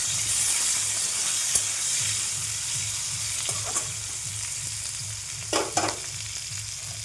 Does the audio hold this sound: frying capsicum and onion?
yes